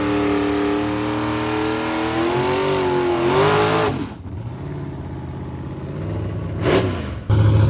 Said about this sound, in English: the S10 Pro Charger truck going on the next round